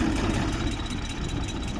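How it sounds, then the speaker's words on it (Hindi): A Suzuki Ravi/Bolan engine runs rough and vibrates with one spark plug wire pulled off, a steady close, loud low idle drone. "अब हम ये पहले नंबर की ये उतारते हैं वायर, तो ये इंजन वाइब्रेट शुरू कर देता है"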